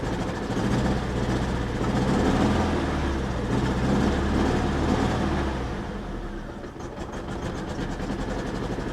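A 1993 Pontiac Grand Am engine running rough on bad gas idles with a low uneven rumble, close and steady, the note wavering and dipping briefly before settling back into its rough drone; no one speaks.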